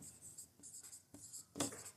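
Pen writing on paper while math work is done gives close, quiet scratchy strokes in short irregular bursts with brief pauses between them, and no talking.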